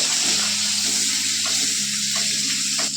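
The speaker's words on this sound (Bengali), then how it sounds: "আর এর মধ্যে অল্প করে একটু পেঁয়াজ কুচি, পেঁয়াজটা দিয়ে একটুখানি আমি ভেজে নেবো।" Chopped onion and black cumin sizzle steadily in hot oil, a close, continuous frying hiss with faint stirring scrapes and no voices.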